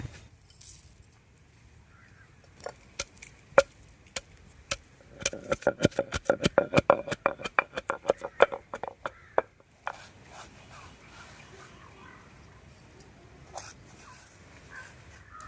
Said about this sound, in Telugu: మసాలా దినుసులు దంచుకుందాం